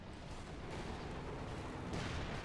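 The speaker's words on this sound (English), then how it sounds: "More cannon fire up here" Tank cannon fire in Company of Heroes 2 sounds as a muffled, distant rumble of battle, steady and low, with no distinct close shots standing out.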